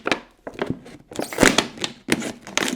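Scissors cut through a plastic bottle about a third of the way up, giving close, irregular crunching snips and crinkling bursts separated by short pauses.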